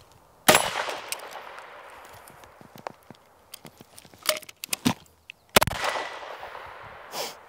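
Two sharp, loud gunshots from a 1R1 during a timed shooting drill, one near the start and a second about five seconds later, with scattered clicks and clacks of handling in between.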